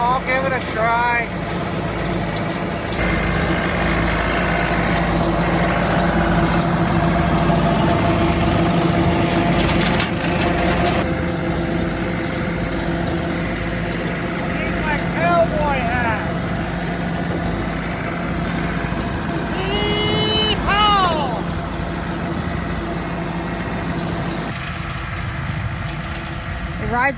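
A John Deere tractor engine runs steadily throughout, a continuous mid-level hum and rattle that stays beneath people talking.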